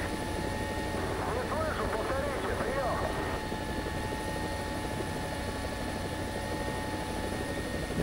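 A helicopter in the War Thunder video game drones steadily throughout, its engine and rotor noise constant and fairly loud, with someone talking over it.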